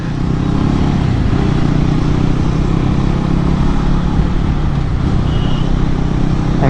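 A Yamaha R15M motorcycle cruises along a road, its engine droning steadily and loudly close by with continuous wind and road noise, without a clear rev change, and no one speaking.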